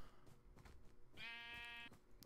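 Single sheep bleat in a video game, a faint, clear wavering cry of under a second over quiet background sound.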